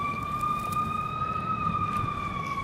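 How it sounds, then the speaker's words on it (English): An ambulance siren wails steadily in the background of a native prairie backyard, a sustained high tone that is moderately loud against outdoor ambience. "Sorry about that ambulance in the background."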